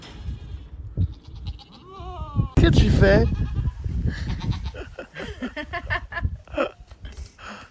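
A goat bleats repeatedly outdoors at sunset after rain, several wavering calls near and loud, mixed with someone talking and laughing.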